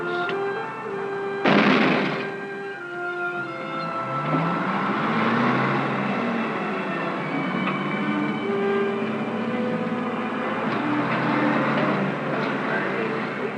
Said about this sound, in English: The shock waves from their explosions bounce off deep rock formations and travel back to be recorded and analyzed.